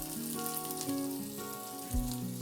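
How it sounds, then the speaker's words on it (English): Cumin, coriander seeds, crushed red chili and sliced garlic sizzle in hot oil for Nepali dal, with a soft continuous frying hiss under tonal background sounds and no voices. "At this point, I'm adding some cumin and coriander seeds and crushed red chili. And sliced garlic."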